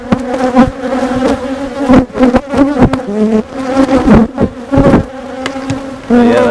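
Honey bees buzzing around an open hive, a close, loud drone with shifting pitch as individual bees pass near, interrupted by brief handling knocks.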